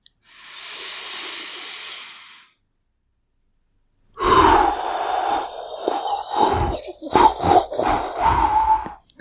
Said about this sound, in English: Do the proper breathing thing.